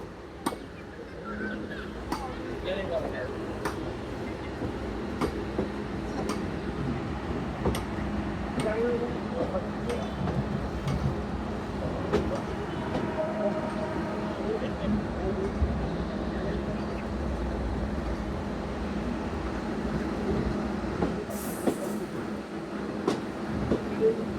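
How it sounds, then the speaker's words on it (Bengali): The Rupsi Bangla Express pulls away toward Dhaka on its inaugural run from Benapole, a low continuous rumble with scattered rhythmic clicks of wheels and couplings, while people talk over it. "ট্রেনটি ফের আবার ঢাকার উদ্দেশ্যে চলতে শুরু করেছে"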